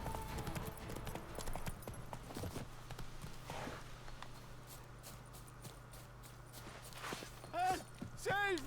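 Roach, the horse in The Witcher 3, clip-clops along at a steady walking rhythm through most of the stretch. The hoofbeats sit close and moderately loud over a low ambient drone, with a few brief in-game sounds near the end.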